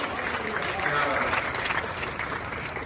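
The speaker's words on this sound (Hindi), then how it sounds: "एक बार बीच में बोलने वाले के लिए तालियां बजा दीजिए" Audience applause at a Hindi hasya kavi sammelan comic poetry gathering, a steady dense clapping from a large crowd throughout, fairly loud and close, with voices mixed in beneath.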